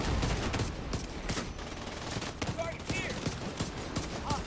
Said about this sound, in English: Shoot the tires on this.